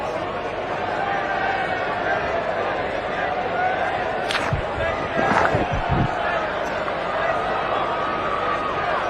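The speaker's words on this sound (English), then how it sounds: "Oh, the crowd are loving it, and so am I." Cricket stadium crowd roaring steadily throughout, a dense continuous wash of cheering with a few sharp thuds and claps midway, while commentators talk over it.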